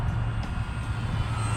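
An Arrows Bigfoot RC Cessna model airplane flies on a 3S battery, its steady electric motor drone holding a constant level throughout with no voices.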